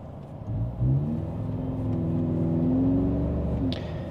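A 4th-gen Toyota Tacoma hybrid fitted with an AWE catback exhaust has its gas engine kick on from hybrid mode. It starts as a subtle low rumble that swells and holds steady, close by, with a brief click near the end.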